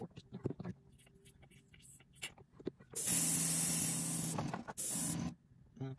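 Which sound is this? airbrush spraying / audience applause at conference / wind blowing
airbrush spraying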